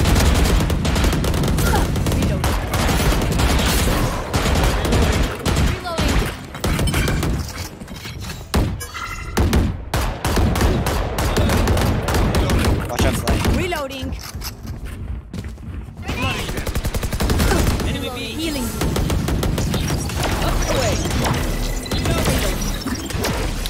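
Continuous gunfire in a video game shooter, a dense stream of rapid shots and crackling impacts running nearly the whole time, briefly thinning in places, with players talking over it.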